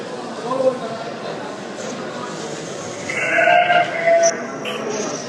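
A sheep bleats a couple of times over a busy, murmuring crowd and steady background noise at an outdoor livestock market.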